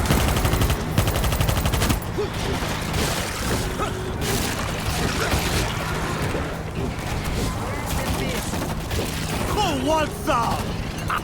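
Gunfire in the video game World War Z: Aftermath, with rapid automatic bursts and booms running almost nonstop through dense game noise, and someone speaking over parts of the battle.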